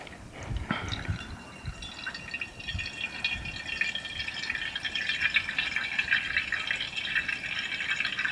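Gasoline is poured through a funnel into the slotted filler of a fuel tank on a lantern, giving a steady trickling, filling sound with faint rattles, close and continuous throughout.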